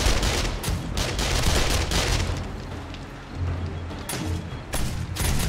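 Rapid bursts of gunfire strike a turret in the zombie survival game 7 Days to Die, dense and loud with heavy booming impacts, continuous across the moment with no talk.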